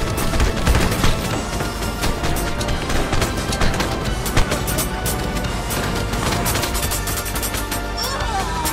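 Rapid bursts of gunfire and crashing impacts from a LifeAfter mobile shooter match, a dense, continuous barrage of shots and hits throughout, with players talking over the action.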